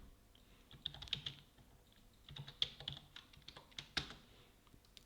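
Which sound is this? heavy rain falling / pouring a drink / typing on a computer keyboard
typing on a computer keyboard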